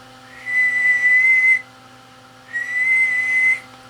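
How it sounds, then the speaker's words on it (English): Two steady, high-pitched whistled tones whistled into a microphone to test a ham radio linear amplifier with a 3-500Z tube, each held about a second, with a pause between them, over a faint electrical hum. "Whistling to about 550."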